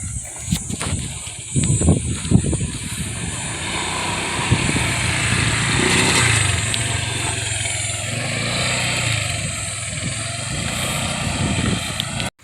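A motorcycle engine drones steadily along a road after a few knocks and rattles at the start, holding a loud even buzz for several seconds.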